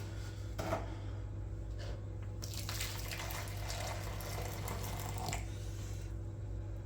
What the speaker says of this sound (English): we've got to put the water in now. The kettle's just boiled